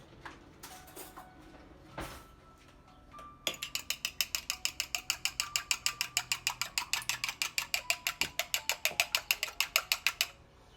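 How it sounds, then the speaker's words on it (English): An egg for pie crust is whisked hard in a bowl: after a couple of light taps, a fast, even train of sharp clicking strokes runs for about seven seconds, close and loud. "We're going to mix the egg up. You want to really break up that egg."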